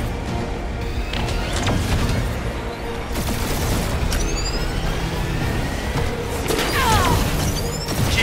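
Dense blaster barrage from a Guardians of the Galaxy game battle, a continuous loud roar of overlapping shots and booms with sharp sweeping zaps cutting through near the start and end.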